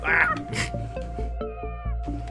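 A small creature's high, plaintive whimpers and mewling cries sound in short bursts, fairly close, with soft game-like tones underneath.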